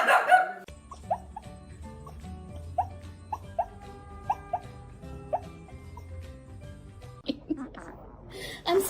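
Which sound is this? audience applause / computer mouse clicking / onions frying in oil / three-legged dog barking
three-legged dog barking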